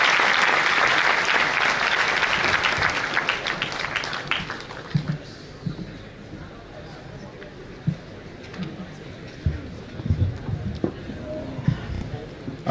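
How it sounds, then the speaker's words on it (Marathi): Loud audience applause welcoming a newly appointed Nanded district police superintendent at an Eklavya Academy felicitation ceremony, dense at first and then thinning into scattered claps and a few thumps. "संजय एलपुरे सरांना जोरदार टाळ्या"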